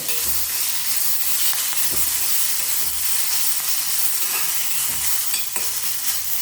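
Curry leaves and coriander sautéing in a hot pan, a loud continuous sizzle broken by rhythmic scraping stirs every second or so, close and without voices.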